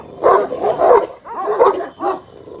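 Several dogs bark at close range in a run of loud, uneven woofs and yips with brief gaps between bursts, as the dogs are approached outdoors.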